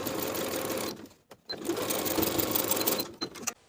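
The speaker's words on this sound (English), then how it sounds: "continue edge stitching along the previous stitching line to close the gap in your stitches" A sewing machine edge-stitches the elastic casing of a pintuck poet blouse, running in fast rhythmic bursts with a brief pause and a near-silent gap, then resuming close and clear.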